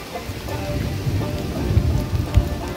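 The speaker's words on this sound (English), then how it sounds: "Out of nowhere, a thunderstorm rolled in and interrupted lunchtime." Thunderstorm rolling over a riverside backpacking camp, with steady heavy rain and low rumbling thunder swelling and fading throughout, loud and close, no voices.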